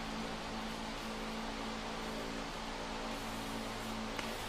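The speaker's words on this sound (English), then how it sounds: "So we've got the fan on full blast." Electric fan running on full blast, a steady broadband hum and whoosh that fills the quiet room at constant level throughout, with no talking.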